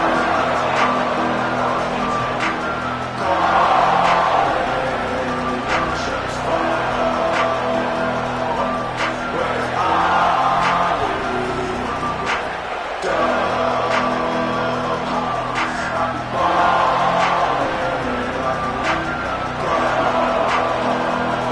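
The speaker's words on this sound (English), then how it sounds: "This crowd ready to make its presence known." A stadium crowd at an American football game keeps up a loud, continuous roar that swells and dips in waves, with no clear voice standing out.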